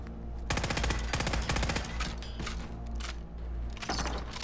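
Rapid bursts of automatic gunfire from modded weapons at a USAF missile silo in Fallout 4, loud sustained rattling volleys with short pauses over a steady low hum.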